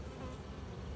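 Dense, steady buzzing of a honeybee swarm gathered inside a box, a close, continuous drone of many wings with no pauses.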